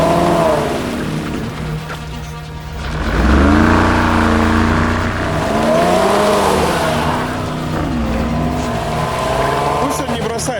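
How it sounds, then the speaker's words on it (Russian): An off-road SUV engine revs hard and steadily with the throttle held open on rough terrain, a loud, surging drone that rises and falls, while people talk over it. "Пусть он не бросает газ, пусть газует постоянно."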